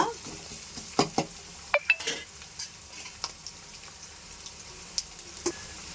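Onions sautéing in a pan, with a soft continuous sizzle under scattered clinks and scrapes of a stirring spoon against the pan.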